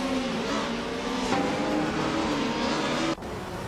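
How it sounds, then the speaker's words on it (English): A 1996 Alfa Romeo 155 TIV 6G race car engine roars loud and close during a race, holding a steady high-pitched drone that shifts abruptly near the end. "Mr. Roche is driving a 1996 Alfa Romeo 155 TIV 6G"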